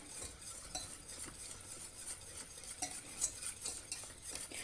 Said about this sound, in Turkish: Güzelce bir karıştıracağım.